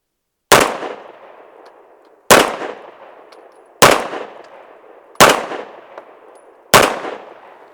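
Five sharp, loud pistol shots from an Archon Type B firing 124 grain +P HST rounds at a range, spaced about one and a half seconds apart, each with a short ringing decay and no talking.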